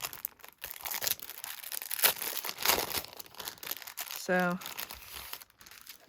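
Plastic sticker packet crinkled and crumpled by hand, a brief rustling burst near the end that comes through under ongoing talk.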